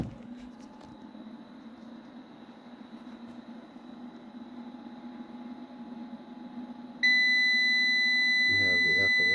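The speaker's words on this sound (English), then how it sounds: "Let's just turn that annoying buzzer off." A steady electronic tone sounds for a few seconds, then a louder, continuous high-pitched buzzer alarm comes on abruptly from an LV6548 inverter showing an F11 fault, with a brief voice near the end.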